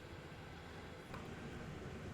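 A diesel train in Train Sim World 5 on the Horseshoe Curve route powers up, a faint, steady low engine drone and rumble with a slight swell partway through and no voices.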